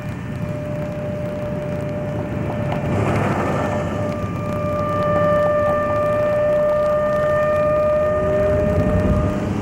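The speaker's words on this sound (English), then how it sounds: "sirens." Tornado warning sirens in Cordell, Oklahoma wail as steady sustained tones over a dense broadband rumble, the pitch holding with a slight swell, carrying from a distance across the whole stretch.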